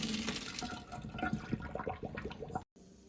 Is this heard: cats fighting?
no